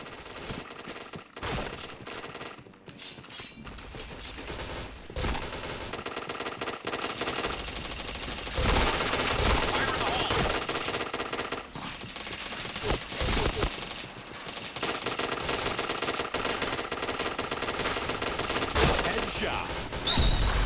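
Rapid automatic gunfire from the shooter video game Point Blank rattles almost nonstop in dense bursts, loud and close, with game effects layered over it.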